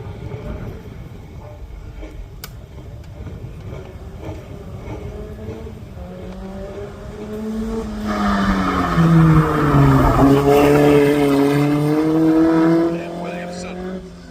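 A Crosley 32F single-seater races up the Craigantlet hill climb course, its engine droning and then rising to a louder, higher-pitched rev as it nears, while a commentator talks throughout.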